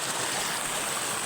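Steady broadband rush of water pouring at Mandaguhong Falls, a continuous dense roar with no breaks, close and fairly loud, no voices present.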